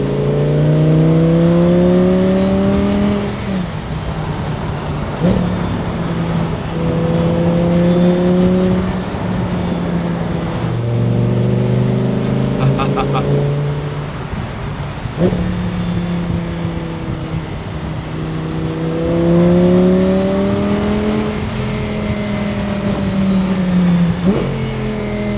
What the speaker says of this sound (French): Le répondant du moteur est phénoménal. C'est un V10. Le son est tellement plaisant.